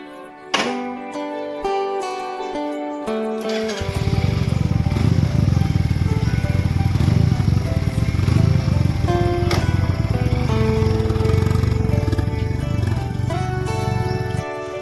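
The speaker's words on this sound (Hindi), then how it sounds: "आज का राइड है अपना बाइक से और अपना ये है रॉयल एनफील्ड है।" A Royal Enfield motorcycle engine fires up close by, ticking over briefly before settling into a loud, steady thumping drone as the bike is ridden, with no talking.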